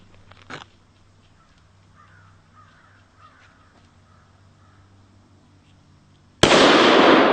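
A single loud Desert Eagle pistol shot bursts out abruptly at a paper target after several seconds of quiet outdoor background with faint distant sounds.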